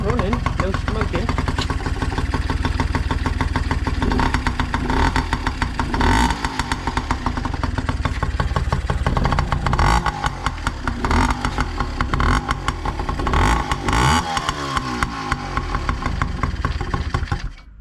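A Yamaha PW50 dirt bike engine runs steadily after a top end rebuild, a loud, buzzy two-stroke drone that holds near and constant with small rises and dips in revs, cutting off at the very end.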